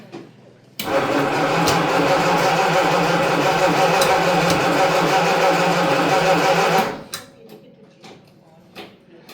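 An old car engine at a transport museum in George cranks and catches, runs with a steady rough rumble for about six seconds, then cuts off, leaving a few faint clicks and knocks.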